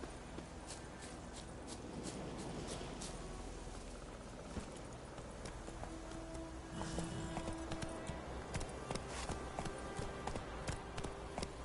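A horse's hooves clip-clop in a galloping rhythm in the video game Witcher 3, heard fairly faint and steady under game ambience.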